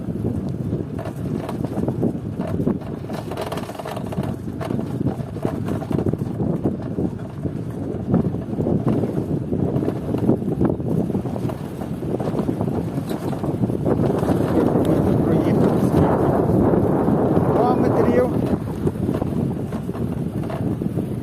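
FADA IDEA electric bicycle ridden outdoors, with steady, loud wind rush buffeting the microphone throughout and a low rolling rumble underneath, and no voices.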